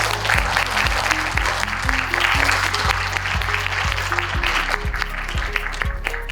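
Applause from a lecture audience welcoming a professor to the stage at the Kim Koo Memorial Hall, dense steady clapping with rhythmic music pulses underneath, continuous and loud throughout.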